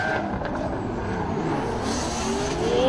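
BMW and Nissan drift cars at a Pure Drift event, engines roaring together in a steady, loud, high-revving howl with a rising whine as the two cars run close.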